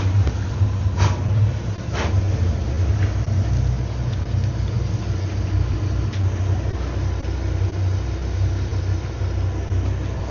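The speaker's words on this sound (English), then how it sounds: "V10 Verado, 400 horsepower. Test shifting before we get off the dock." Four Mercury V10 Verado 400 hp outboards on a 38 Outrage boat idle at a dock in St. Pete, a steady, loud low rumble that stays even throughout with a couple of faint knocks.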